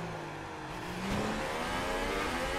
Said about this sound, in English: I do though love the sound of this Honda engine.